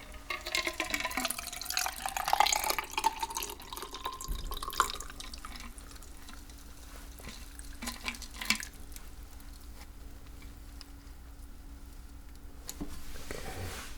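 A cocktail is strained from a shaker into a glass at a bar, with close, quiet liquid trickling and dripping that thins out into scattered drips and soft clinks.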